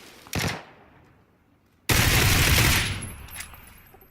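Gunfire from a weapon in a squad-based battle royale video game: a short loud burst, a pause, then a sustained rapid automatic volley with a trailing shot, close and loud with no talk.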